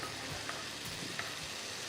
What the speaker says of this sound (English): That bubble and sizzle on the side right there, that's what's gonna get you that crispy, crunchy edges.